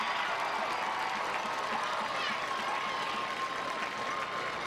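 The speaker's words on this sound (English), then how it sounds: "One more round of applause for our whole homecoming court." A crowd at a high school homecoming football game applauds the homecoming court, a steady wash of distant clapping and stadium noise with a faint tone running through it.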